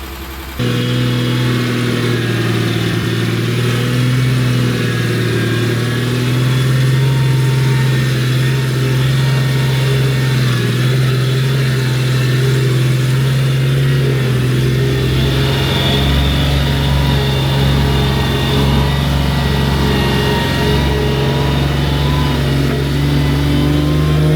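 A Unimog 404 runs in first gear with four-wheel drive engaged and the locks set, its engine droning loud and steady for the whole stretch with a strong low hum and no talking.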